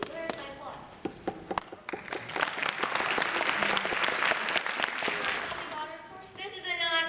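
An audience at a live dating-game show bursts into applause, a dense wash of clapping that swells, holds and fades, with sharp individual claps and a speaking voice at the start and end.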